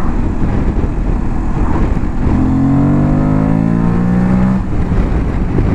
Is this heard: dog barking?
no